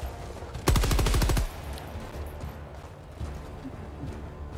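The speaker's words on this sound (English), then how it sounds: "Gatling's doing pretty good in this area." Rapid burst of Gatling sentinel gunfire in the Helldivers 2 video game, a loud, fast string of about a dozen shots lasting under a second, followed by quieter battlefield rumble.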